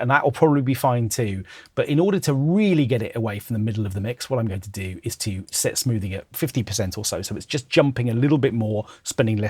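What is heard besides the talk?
No distinct noise like a dog, phone or traffic.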